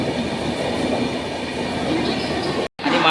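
A train idles at a platform with a steady, loud rumble and hum of engines, continuous throughout, with a brief drop-out near the end.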